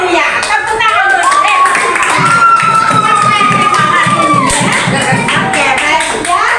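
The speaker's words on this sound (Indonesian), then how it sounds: "Aduh ya, tepuk tangan dulu" Students in a seventh-grade science class clap together in a loud, rhythmic burst, with children's voices shouting and chattering over the steady beat of hands.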